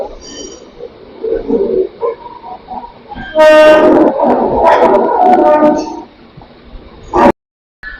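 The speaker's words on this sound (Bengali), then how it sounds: "এটা হচ্ছে হাওড়া অমৃতসর মেল।" The Howrah–Amritsar Mail, hauled by a WAP7 locomotive, rolls through Howrah station with a loud, close horn blast midway over the rumble of passing carriages and general platform noise, then cuts off abruptly.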